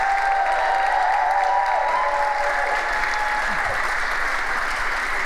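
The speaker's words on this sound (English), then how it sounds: "Can we give a big round of applause for our first 9 entrepreneurs tonight?" Loud sustained applause from a large audience, steady clapping filling the room, with a few faint voices and whoops mixed in.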